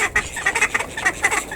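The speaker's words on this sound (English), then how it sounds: "We've got a similar problem with the duckling run, where we keep the call ducks" Call ducks quack in a rapid, overlapping chatter in a backyard duckling run, loud and close, with several birds calling together in quick bursts.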